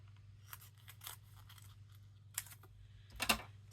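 Scissors snip apart plastic page protectors in a run of short, crisp cuts, some closely spaced and others set apart by pauses, quiet and close with no talking.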